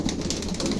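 Rajshahi Giribaj pigeons cooing in a loft, soft low coos repeating steadily under a busy, noisy background.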